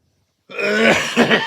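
A single harsh, throaty cough-like burst after a moment of silence, close and loud, with a second rougher push near the end.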